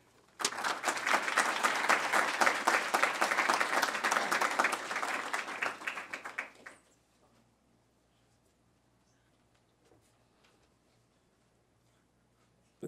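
Audience applause welcoming a lecturer at a talk on migration and politics in Africa: steady, dense clapping from a crowd lasting several seconds, then stopping abruptly into near silence.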